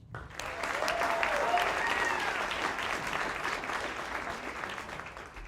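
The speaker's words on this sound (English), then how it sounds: "So if you would all welcome with a round of applause, Cinder Duffy." An audience at a Houston Christian presentations event claps in a sustained round of applause that swells quickly and then tapers off slightly, with no talk over it.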